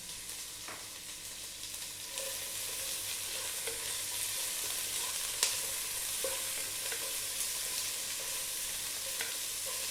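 Onion, dried bay leaves and whole peppercorns sizzle steadily in a hot pan for a Filipino chicken feet adobo, a continuous close frying hiss with occasional small pops and stirring scrapes, no talking.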